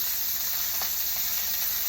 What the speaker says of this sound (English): medium heat on the frying pan here